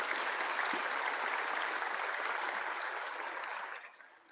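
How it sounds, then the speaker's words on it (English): A large audience gives a sustained round of applause for the Brighter Minds kids at a youth event, dense and even, then fading out near the end. "Let's give a huge round of applause again for these Brighter Mind kids."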